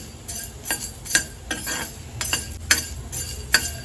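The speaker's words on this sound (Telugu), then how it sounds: "స్లో ఫ్లేమ్ మీద దోరగా వేయించుకోవాలండి" Prawns frying slowly over a low flame for Godavari-style prawn pickle, with a utensil stirring and scraping the pan in repeated clinking strokes over a soft, steady sizzle.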